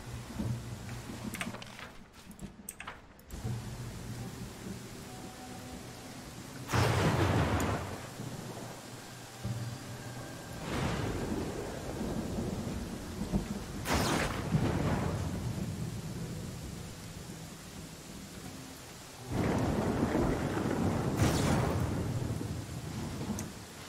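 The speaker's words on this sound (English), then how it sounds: "Of course, it's raining now, so exploration's gonna be a real pain" Steady rain falls throughout a stormy scene in the fantasy role-playing game Pathfinder: Kingmaker, broken by several loud rolling thunderclaps spaced a few seconds apart, with no talking.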